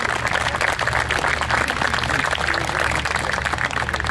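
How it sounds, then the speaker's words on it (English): Outdoor crowd at a Bavarian night event in a park applauding after an alphorn performance, a steady wash of clapping with a low hum beneath and some voices mixed in. "So I want you to give him a round of applause so he can continue."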